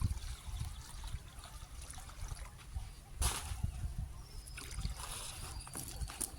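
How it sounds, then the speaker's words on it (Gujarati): Water is poured into a plant pot outdoors, making a continuous trickling and splashing with a sharper splash about halfway through and a faint background hum. "કુંડામાં નાખ્યું છે પાણી"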